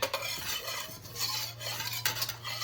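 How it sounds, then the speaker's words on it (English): A metal whisk stirs and scrapes residue inside a thrift-store wok, brisk metallic scraping and swishing up close with a low steady hum underneath. "kind of stirring it around and having the metal kind of break the residue up"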